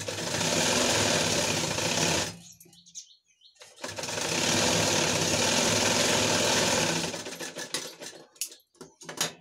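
A sewing machine stitches a seam on a prince-cut blouse, running in two long steady whirring bursts separated by a brief pause, close and loud, followed by a few short clicks and handling noises.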